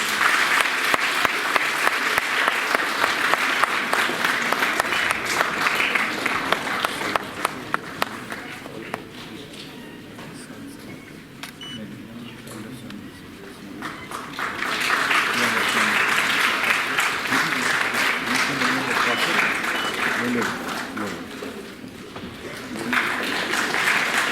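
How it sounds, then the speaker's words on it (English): A conference hall audience applauds as the chairman is welcomed on stage, loud sustained clapping that dips to a quieter patter mid-way, then swells again, with faint voices and movement underneath. "May I have a round of applause, please?"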